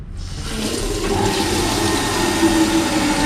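Tap water gushes loudly and continuously over a kitchen utensil as it is rinsed before steaming, a close, steady rushing stream with no voices.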